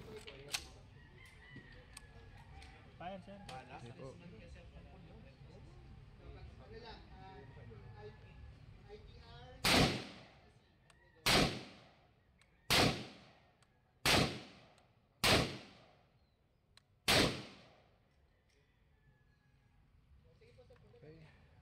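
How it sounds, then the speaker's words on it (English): Six sharp, loud rifle shots from a RIA Torch 5.56 ring out in slow succession at a live-fire range, each with a decaying echo, following a stretch of quiet background noise with roosters crowing in the distance. "Okay, subukan po natin sa live fire."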